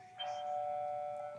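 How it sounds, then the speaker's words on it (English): A doorbell rings with a steady, sustained electronic tone that starts sharply and holds clearly for over a second, alone without talk, in an indoor setting. "That's the doorbell."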